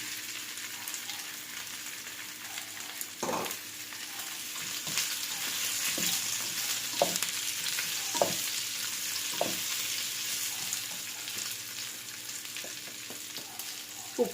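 Boiled baby potatoes frying in a pan with spices, a soft steady sizzle close by, broken by intermittent spoon scrapes and knocks against the pan.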